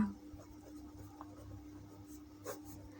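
Pen or pencil scratches faintly on paper while a maths answer is written out by hand, soft scattered strokes close by in a quiet room.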